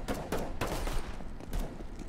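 Gunfire in the video game CS:GO during a tournament match, a dense run of sharp rapid shots and bursts, loud and continuous throughout with no talk over it.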